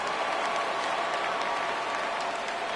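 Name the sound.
stadium crowd cheering in MLB 17 The Show video game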